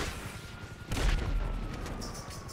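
Enemy gunfire in GTA 5, a sudden loud burst of several shots and booms at mid-distance, with fainter scattered pops before and after.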